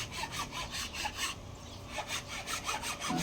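Sandpaper sanding a carabao horn by hand, close up, with steady back-and-forth rasping strokes in a quick rhythm and a short pause midway.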